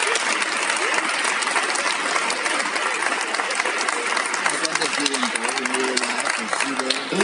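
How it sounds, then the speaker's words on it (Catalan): A strong ovation at a cycling school presentation greets a young rider, dense sustained clapping from a crowd, with loud cheering voices rising over it near the end. "Una forta ovació per a Julen."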